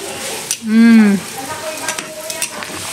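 Pasta frying and sizzling in a home kitchen pan, a steady crackling hiss over which someone hums or briefly speaks, with a few light clinks of a utensil against the pan.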